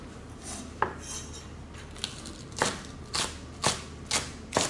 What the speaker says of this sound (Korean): 파는 그냥 듬성듬성 썰어주시면 돼요.